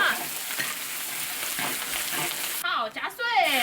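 Ginger, dried chilies and Sichuan peppercorns fry in hot oil that already holds caramelized sugar, a loud, continuous sizzle up close, broken near the end by stirring and scraping.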